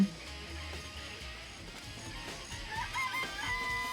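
Chickens in a coop in the video game Danganronpa cluck softly over a faint background, with a few higher squawks rising near the end and no talk.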